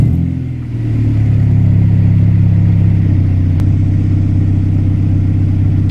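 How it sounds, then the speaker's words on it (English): A car engine runs steadily at idle right after an oil change, with a low, even rumble and a slight dip near the start before settling into a constant drone, close and loud with no talking. "we're going to start it and let it idle for about 20 to 30 seconds"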